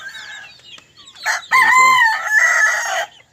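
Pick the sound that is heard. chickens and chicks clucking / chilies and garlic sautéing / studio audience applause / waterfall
chickens and chicks clucking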